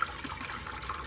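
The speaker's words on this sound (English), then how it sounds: "Right away we add water to this pot" Water running into a cooking pot while spicy chicken feet are prepared, a steady close pouring and splashing wash with no talk.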